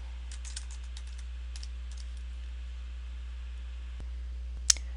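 A computer keyboard is typed on in short, quiet clusters of light clicks over a steady low hum, ending with one sharper tap.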